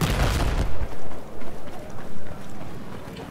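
Rocket launches and gunfire in the video game Battlefield 4 on the Dawnbreaker map: a loud, close blast opens, then a rumbling battle din with scattered shots and pulsing bursts, and faint voices may sit underneath.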